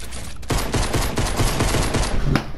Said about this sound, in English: he's already shooting at me.